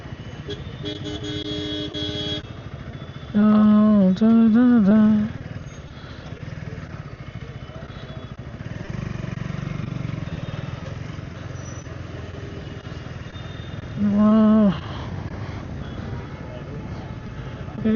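A motorcycle rides through busy city traffic at night in India, with steady engine and road noise throughout, other vehicles passing close by, and two loud horn honks sounding near at about 3.5 and 14 seconds.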